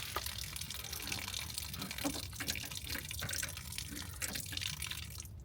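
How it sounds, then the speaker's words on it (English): Steady hiss and spatter of water running and splashing from open valves on a camper trailer, continuous and fairly faint throughout, with no talking. "I hear water coming out from out here."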